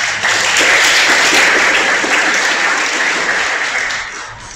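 A congregation at a religious gathering applauds steadily, dense sustained clapping that stays loud throughout and tapers slightly at the end.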